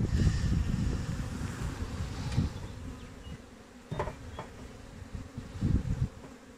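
Honey bees buzz at an open beehive in New Zealand, making a dense, steady drone at close range with wind rumbling against the microphone.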